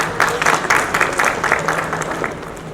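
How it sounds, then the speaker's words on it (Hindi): An audience applauds to welcome a speaker on stage at an awards event for doctors, nurses, ward boys and ambulance drivers, a steady, moderately loud clapping that carries through the whole moment. "जोरदार तालियों के साथ स्वागत."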